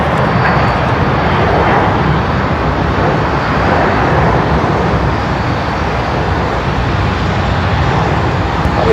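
A heavy jet airliner on its takeoff roll from runway 34 right at Seattle-Tacoma International Airport, a loud, continuous engine roar that holds steady throughout with no voices.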